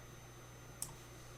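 A computer mouse gives two crisp, isolated clicks about half a second apart, close and quiet over a faint steady hum.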